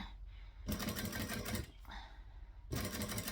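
A sewing machine stitches in short separate bursts, two quick runs split by a brief pause. The whirring is close and fairly quiet, with no voices over it.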